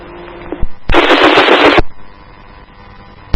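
Rifle gunfire during the July 2016 attack on Dallas police, heard over a police radio channel as a dense, loud burst of rapid shots lasting about a second, with a few isolated pops before it.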